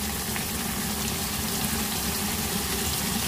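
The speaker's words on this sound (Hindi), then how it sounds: "इसमें पानी जितना शोरबा आपने लगाना है वो लगा के फिर आप अपने हिसाब से मैनेज कर सकते हैं इसको।" Water pours steadily into a pot of dal makhani, a dense, continuous splashing gush held at a constant level for a few seconds with no talking.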